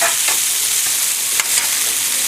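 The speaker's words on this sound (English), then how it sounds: "you just need to give it a quick toss in the tempering" Cooked carrots and beans tossed in hot oil with tempering, a loud continuous sizzle with brief scraping stirs, close and alone without talk.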